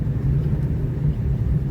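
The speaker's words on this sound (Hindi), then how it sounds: "अजीत जी बड़े ही सुनियोजित तरीके से ढंग से गाड़ी चला रहे हैं" A car being driven across Boriya bridge in Ranchi, heard from inside: a steady low engine and road rumble fills the short stretch, with no voices.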